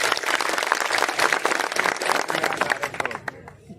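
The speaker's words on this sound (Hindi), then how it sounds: "जोरदार ताली बजाते हैं" A crowd at a Lucknow rally for a Mission Payment India march applauds loudly, with dense clapping that crackles with individual claps before tapering off and stopping near the end.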